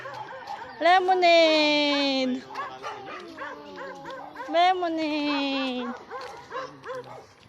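Dogs bark and yip in quick bursts close by on a Marinduque farm, two loud clusters a few seconds apart, with people's voices chattering and laughing over and between them.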